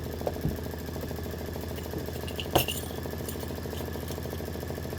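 An embroidery machine stitches two lines of red thread on a bench pillow block, giving a steady, fast mechanical rattle under a continuous motor hum, with one brief sharp click partway through.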